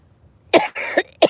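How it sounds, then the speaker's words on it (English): Three close, harsh coughs from a smoker, loud and near, the first and last sharp bursts with a rougher, drawn-out one between them, with no talking. "Smoker's cough."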